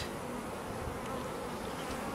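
Honeybees buzz densely around an open hive during an inspection, forming a continuous close swarm hum that fills the whole moment without any voices.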